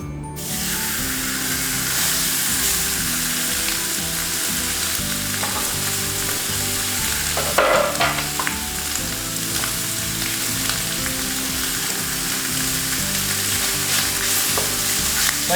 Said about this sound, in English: we're gonna get this right into that hot pan.